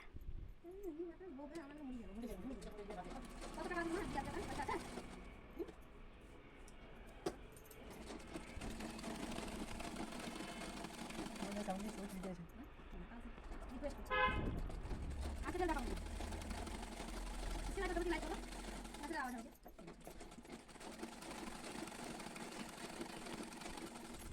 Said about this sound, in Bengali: এই পাশটাতে আবার একটা ছোট পাট সেলাই করে নিচ্ছি